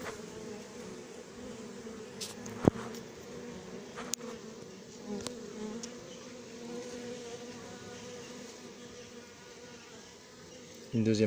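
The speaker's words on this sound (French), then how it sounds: "Une deuxième abeille noire." A constant buzzing drone of many honey bees at an apiary hive during feeding hums throughout, with occasional brief knocks and a louder rustle at the very end.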